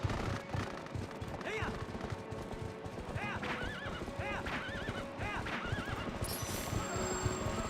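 Horse neighing and whinnying in the video game Zelda: Twilight Princess, several rising and falling calls over galloping hooves and battle noise, loud and close with no talk.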